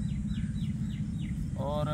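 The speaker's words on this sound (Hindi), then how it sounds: "एक कोयल है जो थोड़ी थोड़ी देर बाद अपनी मीठी सी बोली जो है वो हमें सुनाती है" An Asian koel calls outdoors at a tree-planting site in Pakpattan, four rising whistled notes repeating at a steady interval, moderately faint beneath a loud, steady low rumble of noise, with a voice entering near the end.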